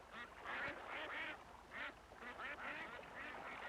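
A duck quacks in a short series of raspy, nasal calls, fairly close but quiet, over a soft background hiss, with no talking.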